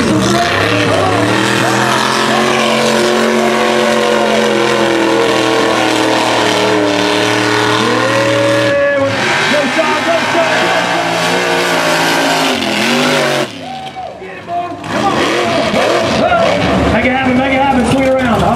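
A mega truck races through a mud park, its engine roaring loud and steady with rising and falling pitch as the throttle opens, broken by a brief dip before the motor surges again; excited voices call out over it.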